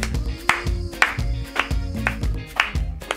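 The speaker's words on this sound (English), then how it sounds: "Find your step clap." Claps land on the beat of a cha-cha dance workout, repeating evenly about every half second over rhythmic music with a steady bass pulse.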